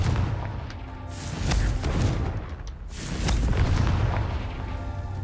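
Confringo fire spell explosions in the video game Hogwarts Legacy, a series of deep booming blasts rolling in two swells, loud and close with no talk.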